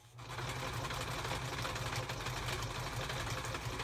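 A sewing machine stitches appliqué onto a double-sided placemat, a fast, steady mechanical chatter heard close and continuous after a brief quiet start, with no talking.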